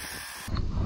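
A jet wash pressure washer at the Ashdown pit bike track starts spraying halfway through, a sudden loud broadband hiss with no one talking.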